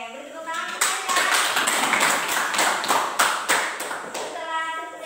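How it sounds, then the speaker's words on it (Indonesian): A classroom of children and their teacher clap for a child who has just told a story, a brisk burst of applause close by with a few louder accented claps and voices mixed in. "Oke, beri tepuk tangan untuk saya."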